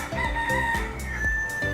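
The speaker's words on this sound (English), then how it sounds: "This is what we're taught as kids, that the cock crows at sunrise." A rooster crows loudly and close by, a stretched, rising cock-a-doodle-doo heard among clucking chickens, with no people talking.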